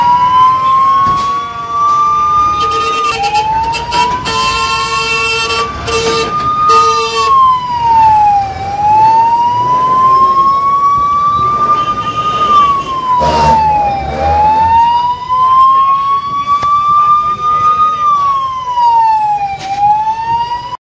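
Fire engine siren wailing loudly and continuously, rising and falling in long sweeps close by, with a rumble of the truck underneath and a short burst of harsher tones early on.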